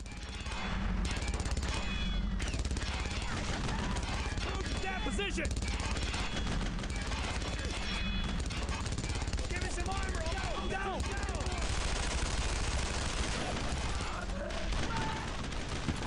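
Sustained machine-gun and rifle fire crackles through a Brothers in Arms: Road to Hill 30 battle, with dense overlapping bursts, distant booms and a voice talking over much of it.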